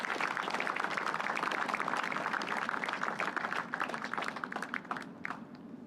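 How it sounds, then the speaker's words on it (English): Sustained applause from an audience at a U.S. Army Task Force Talon change of command ceremony, dense and steady throughout before thinning slightly near the end, with a brief spoken word at the start. "can I get a round of applause from all of our civilian and military partners here today?"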